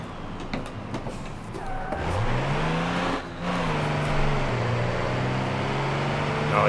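Gavril MD truck engine in the BeamNG video game, switched into four-wheel drive: a steady, loud engine drone that rises in pitch, briefly dips, then holds a sustained rumbling tone.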